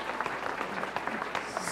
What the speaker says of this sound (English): So how about a round of applause for Blaine?